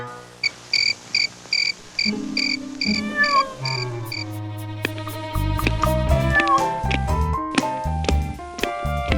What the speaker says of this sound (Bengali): দেখুন দেখুন কি মিষ্টি করে আমাকে ডাকছে, ম্যাও ম্যাও